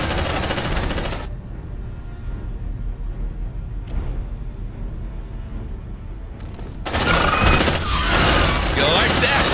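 Sustained automatic gunfire in the Aliens: Dark Descent video game, a dense, loud continuous rattle that breaks off briefly and then returns even heavier with bursts of shots.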